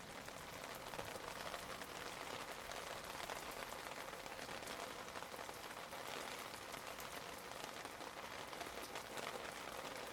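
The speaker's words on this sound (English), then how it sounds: "that's why you can hear the rain bouncing off of our back patio roof" Steady rain drums on a back patio roof, heard through an open kitchen window as a dense, even hiss of countless drops, continuous and fairly loud with no voices.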